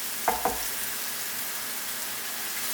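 Mushrooms and mixed vegetables stir-fry in plenty of oil over high heat, a steady close sizzle broken early by two quick scraping stirs, then hissing on evenly with no voices.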